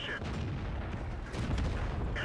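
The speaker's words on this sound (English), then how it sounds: "why do we have people shooting the hill?" Tank cannon fire in World of Tanks rolls through a battle as dense, continuous low booms and rumbling gunfire, with no clear separation between shots.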